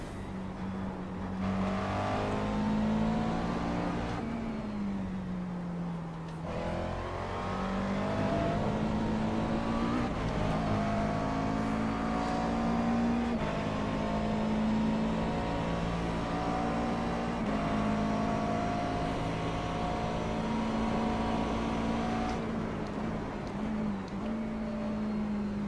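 A McLaren MP4 12C racing around Sebring in the iRacing simulator, its engine droning steadily and loud throughout, the pitch rising and falling with throttle and gear changes, heard alone with no talk.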